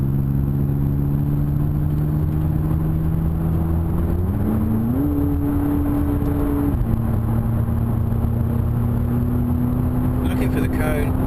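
A McLaren 570S sports car on the Thruxton track hums with a steady engine tone that steps up in pitch as it shifts gears, heard from inside the cabin while an instructor and driver talk.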